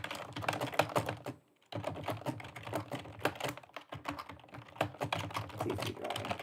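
Rapid typing on a computer keyboard, dense clattering keystrokes close by, broken by a brief pause and a couple of shorter lulls, with no talk.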